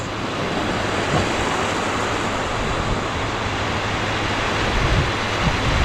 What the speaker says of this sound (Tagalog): Medyo malakas lang po yung agos